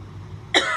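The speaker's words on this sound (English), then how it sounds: "Well, you should be coughing." A woman coughs once sharply, followed by a short rough second cough, near and fairly loud after a quiet low rumble of background ambience in a horror film.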